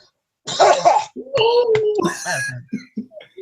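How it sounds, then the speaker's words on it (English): A man nearby lets out a harsh cough that runs into a strained, vocal throat sound, followed by a few short voiced bursts. "I had a bad cough, man."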